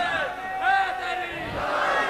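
A crowd at a Karbala commemoration gathering in Kalar Kahar chants a slogan together, several voices in unison rising and falling in drawn-out shouted phrases, loud and close.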